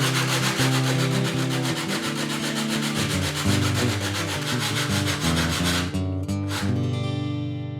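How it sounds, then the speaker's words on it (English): Loud, rhythmic rasping strokes of sanding wood by hand with a sanding block, steady back-and-forth rubbing over background music. "I can get in here and sand it down."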